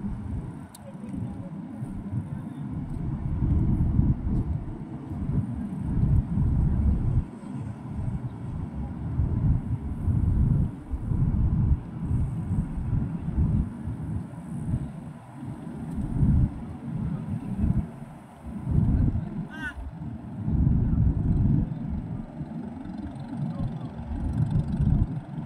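A dredging vessel's main engine drones low and steady at a reclamation project site, heard from a distance under fluctuating wind or ambient rumble.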